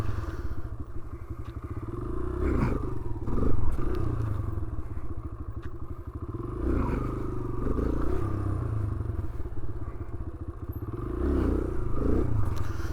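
A motorcycle engine revs and drones steadily during a wheelie on Long Island, New York, rising and falling in pitch with a few clattering thumps, loud and close.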